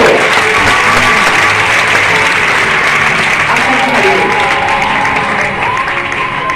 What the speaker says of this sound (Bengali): জোরে হাততালি দিন।